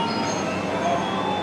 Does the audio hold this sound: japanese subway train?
yes